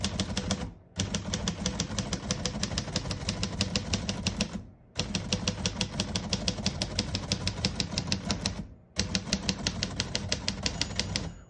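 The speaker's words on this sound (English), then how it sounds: "all the keys type nice and none of them skip or stick" Keys of a 1947 Royal Quiet De Luxe portable typewriter strike in a fast, steady clatter, with three short pauses breaking the runs of typing; loud and close, with no voices.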